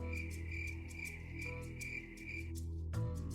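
Crickets chirping in a steady, rhythmic pulse of high trills over a low background hum, fairly quiet and continuous, briefly pausing near the end with no voices.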